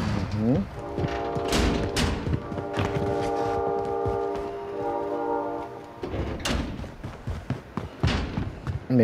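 Gunfire crackles in a Call of Duty: Warzone match, bursts of shots at the start and again near the end with a sustained mechanical drone between, fairly loud, with a voice briefly heard.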